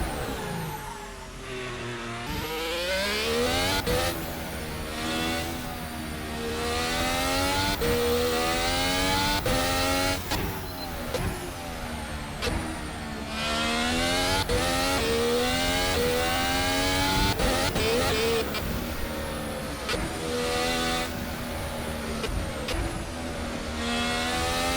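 A 2021-spec Formula 1 car in a racing game screams through a lap, its engine revving loudly and continuously as it climbs and drops through the gears, with rising and falling pitch sweeps from start to finish.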